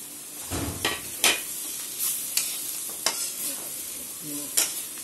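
Radish and chilli pickle mixture being stirred in a pan, close scraping and clinking strokes at an uneven rhythm over a soft sizzle, no voices.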